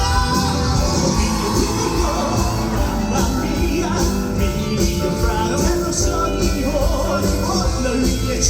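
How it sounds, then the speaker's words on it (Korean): A dense crowd roars and shouts continuously at a live performance, loud and sustained, with yelling and whooping layered over steady background music throughout. "함성 소리가 얼마나 나올지 정말 기대가 되는데 여러분 같이 소리내"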